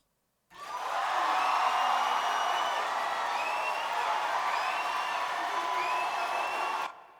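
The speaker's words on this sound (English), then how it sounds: "Cheering crowd." Cheering crowd sound effect from a gospel worship crowd track of about a thousand worshipers: sustained roaring cheers with whoops and whistles, loud and continuous, starting abruptly and cutting off cleanly at the end.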